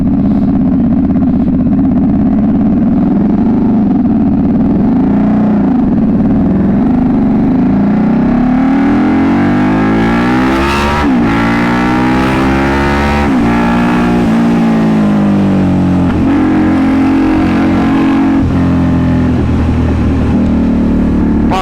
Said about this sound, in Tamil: ஏன்னா அந்தளவுக்கு லவ்லாக இருக்குது எக்ஸாஸ்ட்டு.